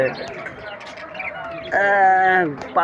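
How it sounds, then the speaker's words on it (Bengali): Pigeons and other birds at a poultry and pigeon market, with close chirps and cooing under steady background chatter from people talking. "কবুতরও আছে, পাখিও আছে।"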